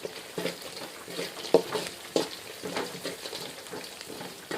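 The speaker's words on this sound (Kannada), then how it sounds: "ಇದಕ್ಕೊಂದಿಷ್ಟು ಶೇಂಗಾ ಹಾಕೊಳತ್ತೀನಿ ನೋಡಿರಿ." Peanuts being added to a pan and stirred for Maharashtra-style poha, a soft sizzle with irregular scraping and rattling strokes, fairly quiet and close.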